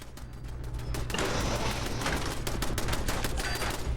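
Automated turret firing in Fallout 4: a dense, continuous rattle of rapid gunfire that thickens and grows louder after the first second, sustained throughout with no speech.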